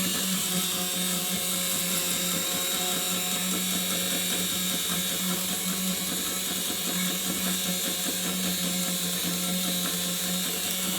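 A small motor in a Wrenn model locomotive runs with a steady whirring buzz and a constant hum, its speed shifting slightly as a nut is adjusted during servicing, close up with no voices.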